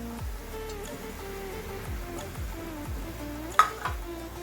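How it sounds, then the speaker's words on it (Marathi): Whole spices sizzling and being stirred in a small amount of oil in a pan for chole, with low steady frying crackle and a few sharp clinks of a spoon against the pot. "आता मी मसाले घालते सगळे."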